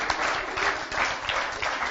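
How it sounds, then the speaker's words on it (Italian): An audience at a youth motorsport event claps in a lively burst of applause that swells and dips in waves, fairly close and loud, with no voices on top. "E va bene, un applausino, va!"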